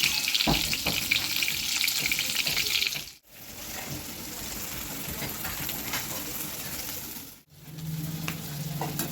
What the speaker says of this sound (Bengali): দেখো কি সুন্দর ডিম বেগুন ভাজা হয়ে গেল।